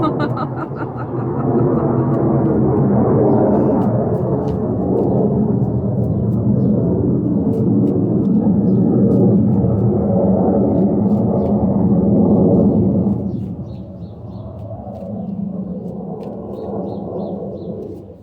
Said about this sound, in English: sounds like we got a plane going overhead